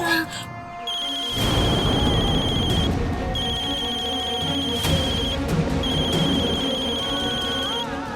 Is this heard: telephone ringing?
yes